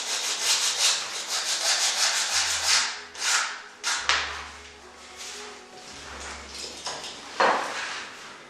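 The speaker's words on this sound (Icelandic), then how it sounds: "Nú taka hérna sandpapíri." Sandpaper is rubbed by hand over a linoleum block, making a series of close, scratchy strokes in an uneven rhythm, with a few soft knocks and pauses between passes.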